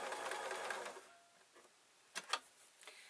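A sewing machine runs in a fast steady whir while stitching a camera bag pocket, stops after about a second, and is followed by a few faint clicks and ticks in a quiet room.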